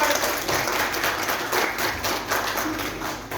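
An audience claps for a guest at a Hindi-language public event, a loud, continuous patter of many hands that keeps going throughout.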